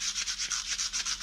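A small handheld sanding device scrubs oxidation off a copper pipe, giving a fast, steady rhythmic rasping close up and fairly loud.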